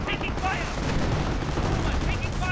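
Artillery and gunfire boom through a strategy video game battle, a dense, continuous barrage of shots and blasts with a voice talking over it.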